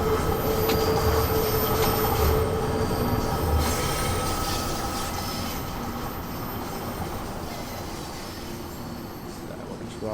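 Train Sim World simulation of a London Underground Bakerloo line train climbing a gentle incline toward Piccadilly Circus: a steady, continuous rumble of wheels and motor with a faint squeal, running evenly throughout with no voices.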